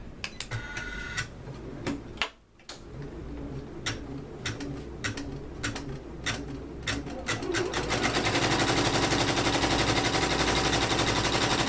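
An embroidery machine stitches out a design at about 700 stitches per minute, a steady rapid mechanical chatter that grows denser and louder partway through, with sharp clicks and taps early on.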